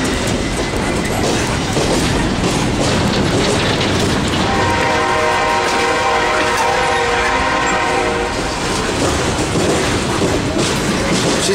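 A CSX freight train of 131 cars rumbles past close by, loud and continuous, with a rhythmic clatter of wheels and a sustained horn blaring through the middle.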